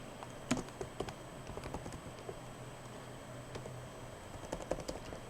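Someone types on a computer keyboard at a Linux machine, sparse soft key clicks in small clusters, faint against a steady electrical hum.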